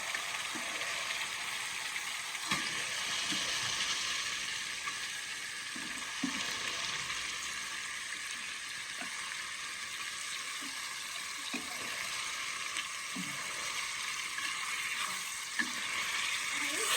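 Meat added to a pan of cooked-down spices fries with a steady sizzle, while intermittent stirring scrapes and knocks recur throughout, close and continuous, with no voices.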